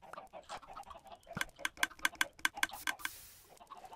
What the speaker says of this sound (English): Some chickens are leaking.